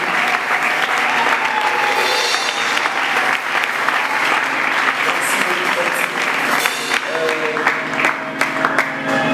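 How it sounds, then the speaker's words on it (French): An audience applauds the parents in loud, sustained clapping that stays even for several seconds, with scattered voices and a few cheers mixed into the dense wash of hands. "Est-ce que tu peux bien applaudir pour les parents de nous?"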